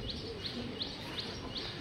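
Small birds chirp in short, evenly spaced bursts, about five over two seconds, near and moderately loud over a steady background hiss, with pigeons kept in a loft close by.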